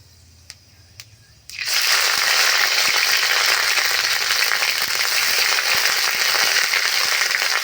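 Ginger paste drops into hot oil already seasoned with five-spice for a thin village-style shol fish curry with potato and lentil dumplings. A quiet kitchen suddenly erupts into a loud, steady, crackling sizzle that carries on without a break.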